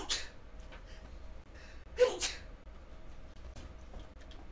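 A single sneeze bursts out in a quiet indoor setting during a gaming live stream, with faint breathing sounds and soft background noise around it.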